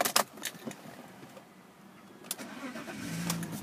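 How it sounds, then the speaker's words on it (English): Keys jangle close by, then a blue BMW 320i SE automatic petrol car is started, its engine catching and settling into a low, steady idle that grows slightly louder toward the end. "And just getting the car started."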